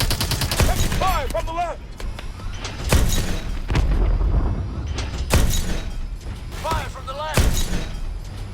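Video game gunfire in Call of Duty: Advanced Warfare, loud bursts of shots and heavy impacts in uneven clusters, mixed with electronic whines and voices talking between volleys.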